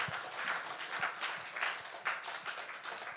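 A church congregation gives brief applause after a sermon, a faint, steady patter of many hands clapping at a distance.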